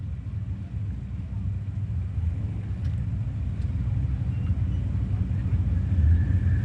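At a drag strip, a Chevrolet Corvette and a diesel pickup truck idle as they line up, giving a steady low engine rumble heard from a distance with no clear revving.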